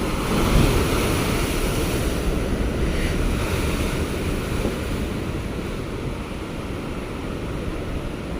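Rough sea waves break continuously against a rocky shore with steady, loud surf and wash, and wind buffets the microphone throughout.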